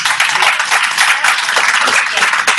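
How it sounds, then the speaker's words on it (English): A short round of applause from a room of attendees at the end of a webinar meeting, dense close clapping holding steady throughout with no voices on top. "So let's do a small round of applause."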